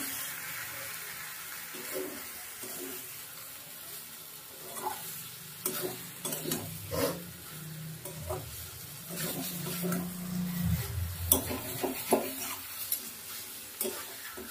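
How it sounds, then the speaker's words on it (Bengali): A spatula gently stirs soft loitta fish into spices in a frying pan, giving quiet scraping strokes and a low sizzle, close and fairly faint, with irregular clinks growing busier toward the end. "এবার খুন্তি দিয়ে মশলার সঙ্গে লোটে মাছগুলোকে মিশিয়ে দেবো"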